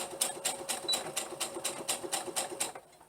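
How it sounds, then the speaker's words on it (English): A sewing machine stitching the back seam of a garment, a rapid even run of mechanical clatter pulses at close range that stops abruptly just before the end. "So I'm sewing the back together, just reinforcing the crotch"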